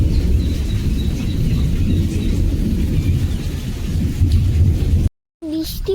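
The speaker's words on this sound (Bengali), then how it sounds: "এই যে বৃষ্টি সেই শুরু হয়েছিল আর প্রচুর জোরে হয়েছিল, এইমাত্র একটু কমলো" Heavy rain falls steadily in a Sundarban village, with rolling thunder blending into the dense, loud downpour. The sound cuts out briefly near the end.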